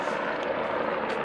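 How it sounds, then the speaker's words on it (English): A medical helicopter flies overhead, a steady, dense rotor and engine drone that stays loud and even throughout the brief stretch, with no voices. "There's the second medical helicopter, by the way."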